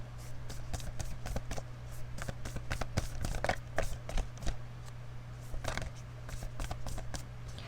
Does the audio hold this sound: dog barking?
no